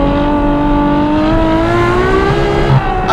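Ferrari F12berlinetta V12 on a mountain pass, revving hard with rising harmonic sweeps that climb through the gears, loud and close, continuous for about three seconds with a brief dip near the end.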